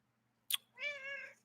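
A house cat gives one short, clear meow after a brief click. It sounds close but fairly faint against a quiet room hum, with no talking.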